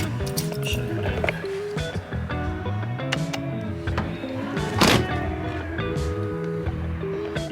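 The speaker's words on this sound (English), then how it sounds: "You can hear my nice exhaust leak." A carbureted Mercedes 450SL R107 engine idles with an exhaust leak, giving a continuous rough, puffing rumble with irregular ticking pops and one louder burst near the end, close and steady.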